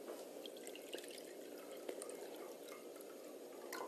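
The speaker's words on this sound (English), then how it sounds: "I'm going to put some tap water on one side." Tap water pours quietly into a glass holding sesame oil, a faint continuous trickle with soft splashy drips throughout.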